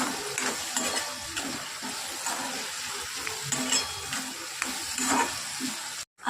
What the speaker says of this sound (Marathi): आणि आता थोडेसे शेंगदाणे टाकूयात। तेही मिक्स करून घेऊयात।